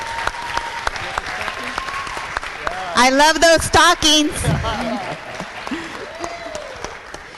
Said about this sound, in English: let's give a round of applause for what she does as well.